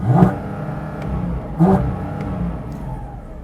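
A 2023 Porsche 718 Cayman GT4 RS at standstill, its engine blipped twice against a soft limiter at 4,000 rpm, each sharp rev spiking close and loud before falling back to a throbbing idle.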